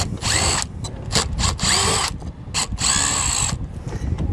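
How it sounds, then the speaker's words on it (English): A power drill takes screws out of the backing plate on an RV entry door latch on a 2018 Forest River camper, whirring loudly and close in several short, stop-start bursts with ratcheting clicks between them. "To do that, we'll take out our four screws here."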